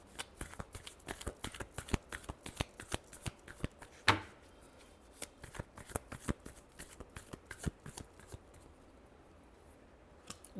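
Tarot cards being shuffled by hand, a rapid run of crisp riffling flicks and slaps that continues in bursts across the clip, close and fairly quiet, with no one talking.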